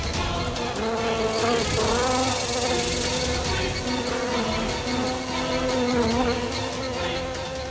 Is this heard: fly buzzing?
yes